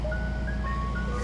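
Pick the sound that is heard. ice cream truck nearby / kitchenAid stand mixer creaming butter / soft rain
ice cream truck nearby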